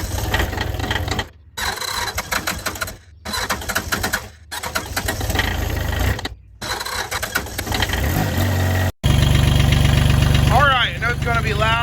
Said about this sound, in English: It's going to be loud with the tractor running, but as you can see, we're idling right now